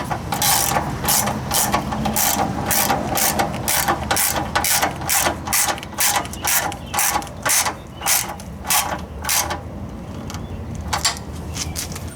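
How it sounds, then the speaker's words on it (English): Hose clamps are tightened with a ratchet during a B-series engine swap into a Honda Civic, producing close, rapid bursts of sharp clicking in repeated strokes that slow and fade toward the end. "we're just going to tighten all these hose clamps down"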